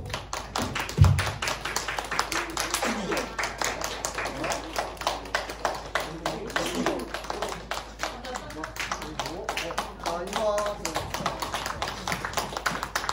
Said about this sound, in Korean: 우리 친구들 격려하는 마음으로 박수